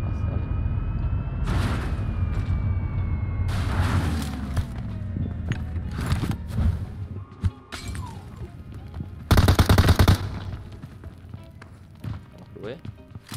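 Gunfire in the mobile battle royale game PUBG Mobile, with bursts of shots scattered through the clip, a loud cluster near the end, and running footsteps, all under excited talk from a player.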